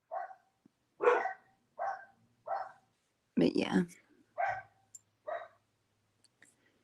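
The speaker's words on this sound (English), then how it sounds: "Sorry about my dogs." Dogs bark indoors in a string of sharp, separate barks, about eight over several seconds. The barks are fairly near and loud, and a voice speaks briefly among them.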